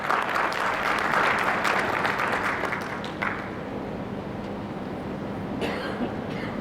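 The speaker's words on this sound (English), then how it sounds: "Welcome them with a loud applause" An audience claps loudly and steadily at a formal refresher course session, a dense burst of applause that eases off after about three seconds and fades into low room noise.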